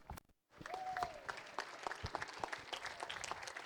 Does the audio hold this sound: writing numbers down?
no